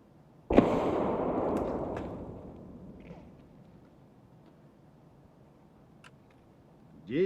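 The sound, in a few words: grenade thrown and exploding in video game Escape From Tarkov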